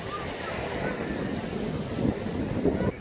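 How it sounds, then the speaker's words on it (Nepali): Strong sea wind buffeting the microphone at Larnaca beach, a constant roaring rush with surf noise beneath and a few louder gusts near the end. "बाप्रे कस्तो हावा आएको"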